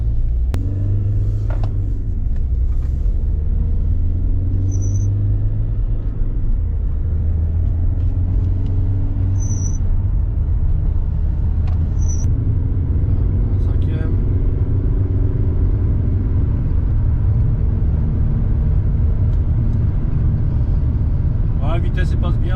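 Citroën C4 Picasso with a robotised manual gearbox driving and being downshifted into fourth with the steering paddles: a steady low engine and road rumble throughout, someone talking over it.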